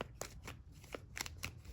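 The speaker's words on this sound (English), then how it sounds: "I was just shuffling." Tarot cards being shuffled by hand, a run of crisp papery riffles and slaps in a steady, uneven rhythm, close and fairly quiet, with no voice.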